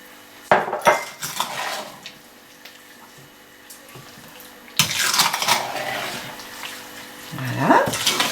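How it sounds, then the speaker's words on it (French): Plum jam with port and freshly added lemon juice stirred in a pot, utensil scraping and clinking against the metal in short bursts with wet sloshing, loud and close, with pauses between strokes. "Je mélange de nouveau."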